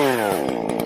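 A Stihl chainsaw settles from a higher whine down to a low idle, with a smooth harmonic engine tone that drops in pitch and then turns into a rough, uneven putter, close and loud.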